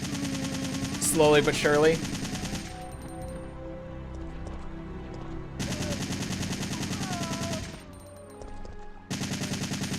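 Rapid automatic bursts from an infinite-ammo assault rifle in Resident Evil 2, loud chattering fire in short volleys separated by quieter gaps, with someone talking over part of it.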